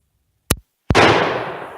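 Two sharp gunshots crack out on an outdoor shooting range, a short pop followed by a louder blast that rings and decays for about a second, close and with no voices.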